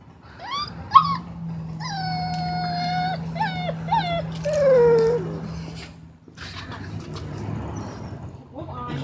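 A puppy whimpers and whines in high, wavering cries, close to the listener and broken into short bursts, while a person talks to it in a soft voice over a low steady hum.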